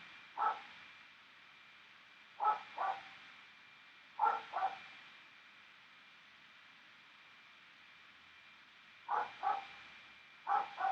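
A faint, distant dog barks in short single and double bursts, separated by long quiet gaps over a low background hiss.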